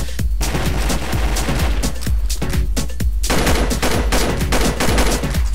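Rapid, continuous gunfire crackles from a video game, loud bursts of automatic shots layered densely with no pauses and no talking.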